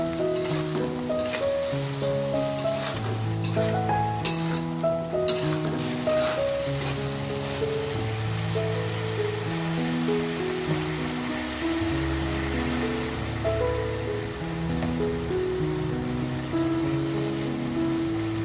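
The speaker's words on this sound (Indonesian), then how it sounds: "Aduk sampai tercampur rata" Tofu and meatballs in sweet soy seasoning sizzle steadily in a pan while being stirred, with a constant close frying hiss and occasional scraping, and soft background music underneath.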